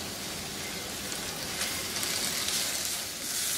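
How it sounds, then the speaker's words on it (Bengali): Diced tomato with a pinch of salt frying in a pan for a homemade chicken pasta sauce, giving a steady, dense sizzle that holds level throughout with no talking. "টমেটো যাতে গলে যায় ভাজার ঠেলায়।"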